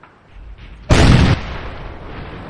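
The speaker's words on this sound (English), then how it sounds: "that gun sound in the KV-1 is pretty loud" KV-1 tank gun fires once in World of Tanks, a sudden loud, close boom with a sharp blast lasting about half a second, then a lingering lower rumble tail.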